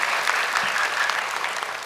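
A studio audience at the Hafiz Indonesia Quran memorization contest gives a brief burst of steady applause for two young contestants, even and sustained throughout, with no talk over it.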